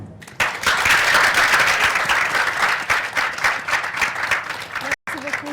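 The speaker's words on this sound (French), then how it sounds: "Et on applaudit une fois de plus pour nos invités, s'il vous plaît." An audience at a film screening and discussion event applauds steadily for several seconds, a dense wash of clapping with a voice speaking over it, cutting out briefly near the end.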